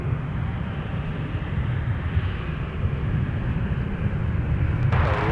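A jet airliner taking off from runway 17 at Minneapolis–Saint Paul airport, a loud, continuous broadband engine roar that holds steady and builds slightly toward the end.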